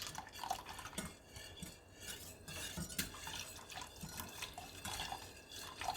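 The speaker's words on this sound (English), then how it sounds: "Keep stirring fast." Custard milk and egg yolk stirred fast in a pot, quiet clinking and scraping of a utensil against the metal with soft liquid swishing, continuous and close, with no voices.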